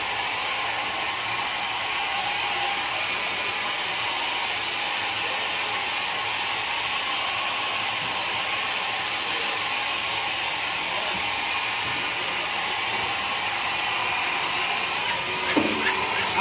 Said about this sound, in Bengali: এই যে ডায়ার দিয়ে আমরা এটাকে শুকিয়ে নেব